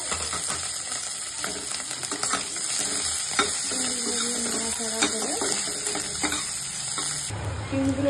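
Prawns added to a pan with whole cumin and dried chillies, frying with a steady sizzle, clinks and scrapes of a utensil against the pan.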